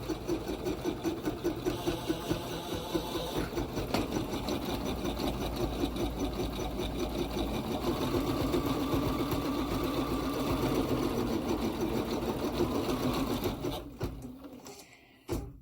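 An embroidery sewing machine stitches a hooped design close by, a steady fast mechanical whirring and rapid needle clatter running continuously before stopping near the end.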